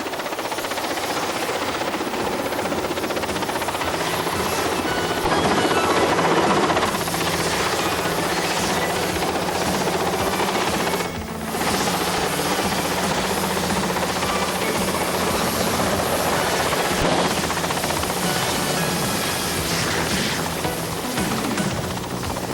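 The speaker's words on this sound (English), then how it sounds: "one of the familiar red helicopters of the Queen's flight descended on the specially built" A red Queen's Flight helicopter descends toward a purpose-built helipad, its rotor chop a steady, loud, close roar that holds for the whole stretch with only a brief dip, and no voices.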